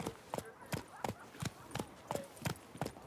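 Roach the horse's hooves clip-clop in a steady, evenly spaced walking rhythm in The Witcher 3, about eight sharp close strikes in a few seconds, with a voice speaking over them.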